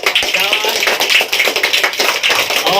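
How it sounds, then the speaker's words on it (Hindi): An audience at a gathering for a young girl gives a loud, dense round of applause, many hands clapping continuously and close, with voices mixed in. "एक मतलब फिर जोरदार तालियां बजा दो"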